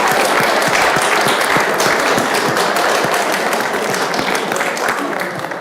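Loud sustained applause and cheering from a large audience at a lecture series event honouring students, a dense continuous wash of clapping with voices mixed in, easing slightly at the end.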